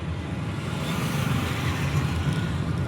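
Steady road traffic near an underpass in congested conditions, a continuous low rumble of car and truck engines with no distinct passes, moderately loud and unbroken throughout.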